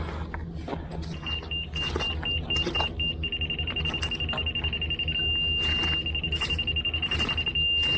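A laser level receiver on a floor-grading job gives a steady electronic tone with short beeps while being moved up and down, clear and close over a low background hum.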